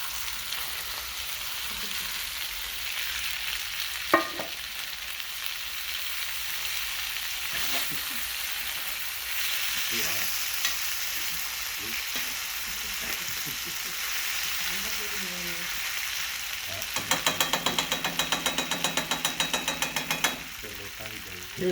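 Raw fresh potatoes fry in bacon fat in a cast-iron pan on a woodstove in a shed, giving a steady hissing sizzle with occasional scrapes and stirring clatter, and a rapid rattling burst near the end.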